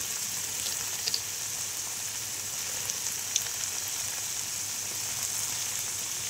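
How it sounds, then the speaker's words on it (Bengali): Masala spice paste frying in a pan, a steady close sizzle with faint crackles and a few soft stirring taps, no voices. "এবার মশলাটা আমি একটু ভালো করে কষিয়ে নেব"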